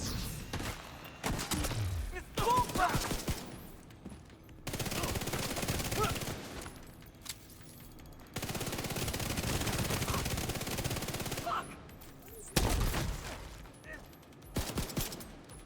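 Repeated bursts of gunfire in a shooter game, long-range shots at enemies, several loud rattling volleys separated by quieter gaps, with game sounds between.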